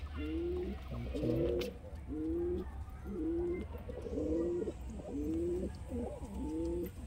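Pigeons coo in a steady, repeated rhythm, soft throaty calls rolling one after another over a low background hum.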